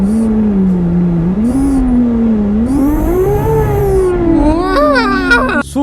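A Toyota Supra in Euro Truck Simulator 2 revs and accelerates, its engine tone rising and falling across several gear pulls, loud and close, with brief game sounds layered near the end.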